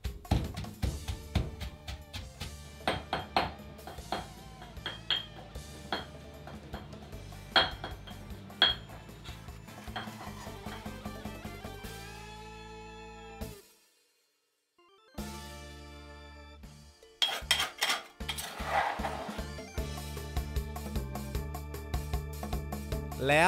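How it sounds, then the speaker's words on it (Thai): Black pepper, coriander root and garlic pounded in a mortar with a pestle, repeated sharp knocks in a steady rhythm over background music, breaking off briefly before resuming. "จากนั้นจึงตำพริกไทยดำตามไปคือรากผักชีและกระเทียมโขลกไปให้ทุกอย่างแหลก"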